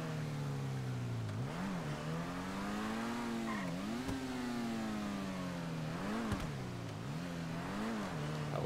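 A car races at high speed in the GTA video game, its engine droning steadily with repeated rising and dipping pitch as it shifts and revs, continuous and fairly close with no talk.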